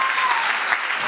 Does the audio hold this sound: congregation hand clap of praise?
yes